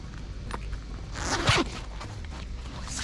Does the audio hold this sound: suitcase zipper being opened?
yes